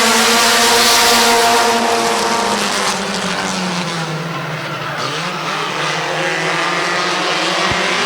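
A pack of race cars roars off at Midvale Speedway's fall classic, a loud, sustained engine drone of many cars at once with shifting pitch as they accelerate away.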